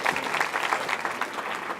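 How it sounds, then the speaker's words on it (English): Audience clapping for four volunteers called up on stage, a steady, dense round of applause from a nearby crowd that holds its level throughout with no voices over it. "would you give a big round of applause to all 4 of my volunteers?"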